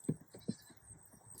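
Goats on a small farm bleat in a few short, close bursts, two stronger cries near the start followed by softer overlapping calls against quiet background hiss.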